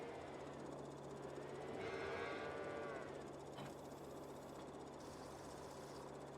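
Cattle moo on a farm in a farming game, a drawn-out low call rising and falling mid-clip over a constant engine hum, faint overall with no talk.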